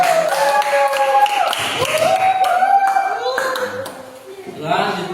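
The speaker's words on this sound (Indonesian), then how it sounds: "Tepuk tangan kelompok." A classroom group clapping hands in rhythm while voices chant along, the claps light and patterned beneath prominent singing-style speech.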